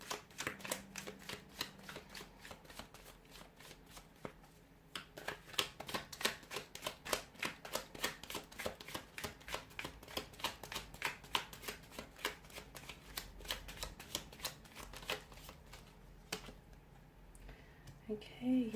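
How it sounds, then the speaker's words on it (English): Tarot cards shuffled by hand, a long run of rapid riffling and flicking bursts with short pauses between them, close and fairly quiet, with occasional soft voice in the background. "give the cards a shuffle here"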